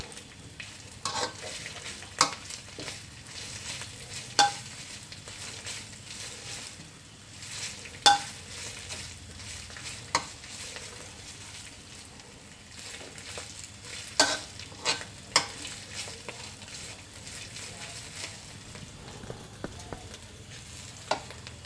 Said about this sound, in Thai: ผัดพริกแกงให้หอมๆนะพี่น้องนะ